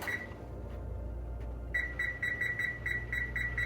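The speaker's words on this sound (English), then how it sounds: "I'm going to set the timer for," A kitchen timer, set while an oven preheats for baking jalapeño poppers, gives a few button chirps and then a run of regular, evenly spaced electronic beeps over a low steady hum.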